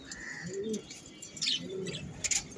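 Pet budgerigars kept in a cage on a balcony, giving soft chirps and warbling calls in short bursts at close range.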